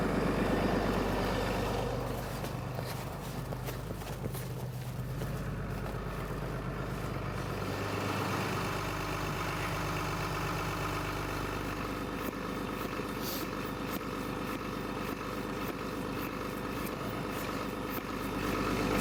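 An air pump inflating Emuk Airlift suspension bags on a van, running as a continuous mechanical drone with a steady hum, unbroken for the whole stretch and fairly loud.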